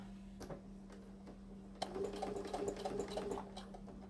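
Sewing machine stitching fabric for a headcovering, a steady run of rapid mechanical needle ticks beginning about halfway through, close and moderately loud over a low hum.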